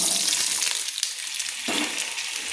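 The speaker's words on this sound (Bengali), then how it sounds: "কড়াইতে দিয়ে দিলাম একটু লাল লাল করে ভেজে নেওয়ার জন্য" Diced potatoes sizzle and crackle in hot oil in a wok, a steady bright frying hiss close by with a brief clink partway through.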